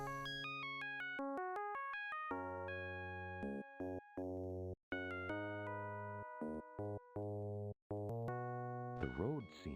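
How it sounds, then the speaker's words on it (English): A chiming electronic doorbell melody in the point-and-click adventure game Dark Seed rings out in stepped tonal notes, repeating in bursts with brief gaps, loud and alone. "Who's ringing my doorbell?"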